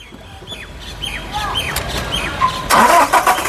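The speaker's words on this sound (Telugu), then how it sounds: "సింగిల్ సెల్ఫ్లో కార్ స్టార్ట్ అయితే ఎటువంటి స్టార్టింగ్ ట్రబుల్ అయితే లేదు" Toyota Innova Crysta 2.4 G diesel, 2018, starting on a single crank: a short starter whirr that catches into a loud engine rumble near the end, with birds chirping around it beforehand.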